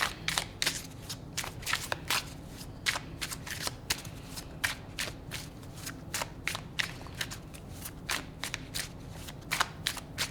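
A tarot card deck is shuffled by hand close up, making quick repeated riffling snaps and flutters in an uneven rhythm.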